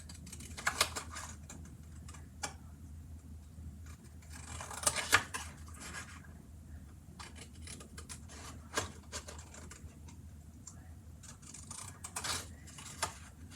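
Scissors snipping a paper star shape for a Stampin' Up! Snowy Delights card, a steady run of small close cuts and paper rustles at moderate volume, with no talk.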